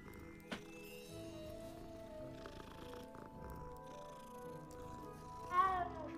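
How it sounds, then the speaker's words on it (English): Several cats in the Hogwarts Legacy video game purr and meow softly over a quiet music bed, with a louder meow rising near the end. "Oh my god, so many cats."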